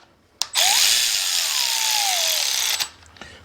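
A power tool whirs steadily for about two seconds while backing small Allen bolts out of a Toyota 2JZ cylinder head, its pitch sliding as it runs, with clicks just before and after.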